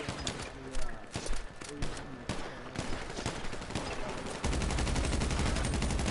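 AK rifle gunfire in the video game GTA 5, scattered sharp shots then a steady rapid burst near the end, loud and close, with voices talking over it.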